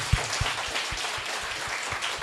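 An audience claps in response to a prompt at a church meeting, a scattered, rhythmic applause of many hands in a reverberant hall, with a few sharper claps standing out early.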